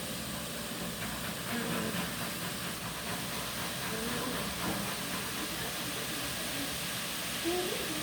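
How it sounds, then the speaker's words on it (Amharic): Onions frying in oil in a pan produce a steady, hissing sizzle that holds throughout, with faint clinks and a muffled voice in the background. "ሽንኩርቲቱ ያው ቀላ እንደማለት ሽንኩርትና ዘይት ነው አሁን ያደረግነው፣ እየቀላች ነው"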